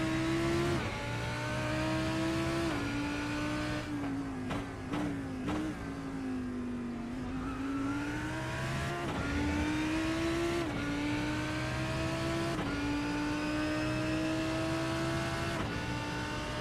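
Race cars on the final lap at Le Mans, a steady high engine whine rising and falling with gear changes and passes, continuous and fairly close.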